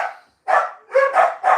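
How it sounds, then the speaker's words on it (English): Dogs barking in short, loud bursts: one bark, a pause, then three more close together, nearby and alone with no talk. "The dogs need to be let out."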